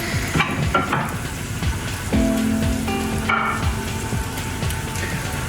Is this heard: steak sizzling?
yes